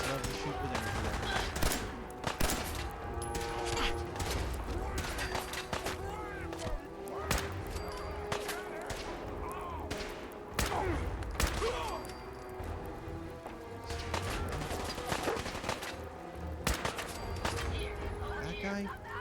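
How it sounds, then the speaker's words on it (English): Energy weapon fire from robots in Fallout 4's Automatron add-on, a dense run of rapid shots and crashing impacts over a steady combat backdrop, with talk over the action. "These love to shoot with energy weapons"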